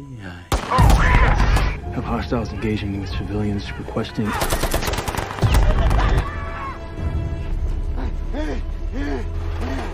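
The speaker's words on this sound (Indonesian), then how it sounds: "Abel langsung menembak kaki Hashimi." Gunfire in a film action scene: sharp single shots and rapid machine-gun bursts ring out loudly, mixed with voices, engine noise and dramatic sound effects.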